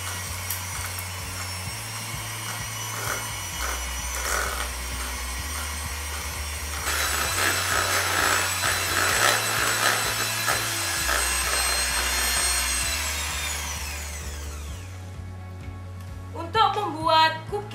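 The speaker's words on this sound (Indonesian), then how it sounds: "dan kita masukkan gula halus. Kita mixer hingga tercampur rata." An electric mixer beats margarine with powdered sugar for cookie dough, a steady motor whir that shifts in pitch as the bowl contents change, then winds down near the end with a few clinks.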